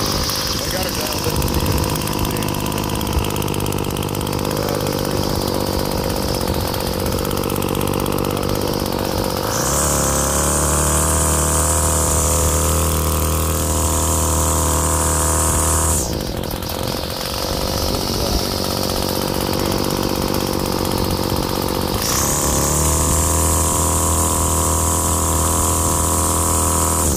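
Weed Eater string trimmer, a salvaged unit with rerouted fuel line, runs its small two-stroke engine near and loud, idling then revving hard to a high whine twice when the throttle is punched, dropping back between.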